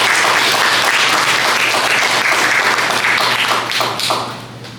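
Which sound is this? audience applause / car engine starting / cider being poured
audience applause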